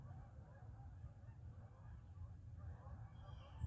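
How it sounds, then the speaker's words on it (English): Faint geese honking in the distance, a few scattered calls over a low, steady background rumble. "those are geese you hear right now"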